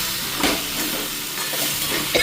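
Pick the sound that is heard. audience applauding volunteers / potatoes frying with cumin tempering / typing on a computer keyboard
potatoes frying with cumin tempering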